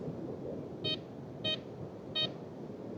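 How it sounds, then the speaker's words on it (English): A metal detector sweeping a beach gives three short, evenly spaced electronic beeps over a find, standing out above quiet background noise. "Oh, it's beeping."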